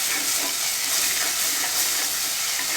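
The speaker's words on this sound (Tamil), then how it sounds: "அதுக்கப்புறம் நம்ம இஞ்சி பூண்டு பேஸ்ட் போட்டுக்கலாம். பச்சை வாசனை போகிற வரைக்கும் நல்லா வதக்கிக்கலாங்க." Ginger garlic paste frying in hot oil in a pan for Chettinad chicken gravy, a dense, steady, close sizzle with no pauses.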